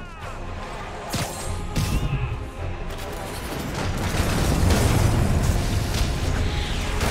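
Cannon fire in the action game Marvel's Spider-Man Remastered, with sharp booming blasts and crashes punctuating a dense roar of combat noise that swells louder toward the end.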